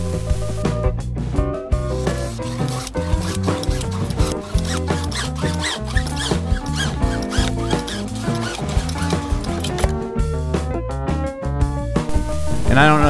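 A short length of PVC pipe being cut by hand, a close, rhythmic rasping repeated in quick back-and-forth strokes throughout, with a brief gap and short bursts of louder strokes.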